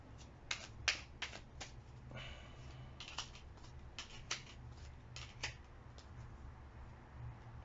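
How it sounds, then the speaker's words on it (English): Tarot cards drawn from a deck and laid out during a reading: a string of quiet, crisp card snaps and brushes, several in quick succession with pauses between, faint and close against a low steady background hum. "Let's just draw a couple of extra cards."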